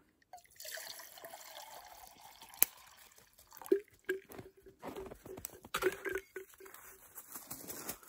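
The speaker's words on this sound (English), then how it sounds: "So I put my cold water in." Cold water poured into a French press at a trailside camp gives a faint, uneven trickle with scattered drips. The sound comes in small bursts over quiet background noise, with no talking.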